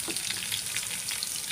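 Curry leaves fry in hot oil for tomato uppittu, giving a dense, steady crackling sizzle, close and continuous throughout.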